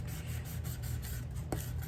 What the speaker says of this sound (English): So I'm just gonna sand